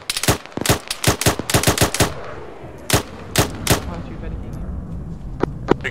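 Sharp bursts of rifle and machine-gun fire in a video game firefight, a rapid cluster of loud close shots, then slower spaced single cracks and distant pops over a low background rumble.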